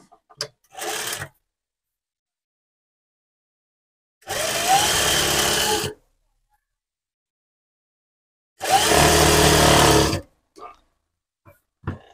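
A sewing machine stitches an edge seam on the lining of a sleeveless blouse, running in two loud, steady bursts of about two seconds each, with a shorter burst at the start and a few small clicks between runs.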